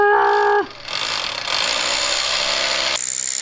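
A power drill bores into a concrete slab with radiant heating lines inside, a steady loud grinding whine that starts abruptly after a short tonal hum and runs on without pause, then shifts to a higher pitch near the end.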